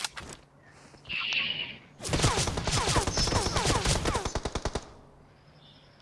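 Rapid automatic gunfire and single shots rattle through a shooter video game match, with a bright electronic tone and a burst of whooshing before a sustained barrage that ends in evenly spaced individual shots.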